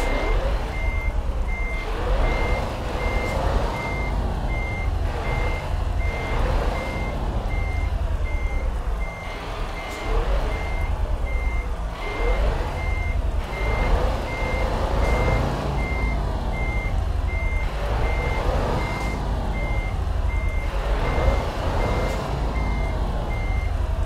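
A container truck reverses with a steady, loud reversing beep repeating evenly throughout, over heavy diesel engine rumble.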